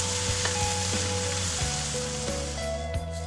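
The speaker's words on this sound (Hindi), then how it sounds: "ये जो है थोड़ा पहले फ्राई होने देते हैं, ताकि इसका बेस खत्म हो जाए।" Okra with tomato and green chilli frying in a pan, a steady close sizzle with occasional scraping stirs and no talk.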